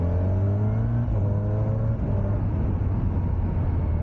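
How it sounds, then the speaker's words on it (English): Inline-four engine of a 2025 Kawasaki Ninja 1100SX motorcycle, revving steadily with a low droning tone that rises and falls slightly, close and loud throughout with no talk. "Ooh, inline 4 sound"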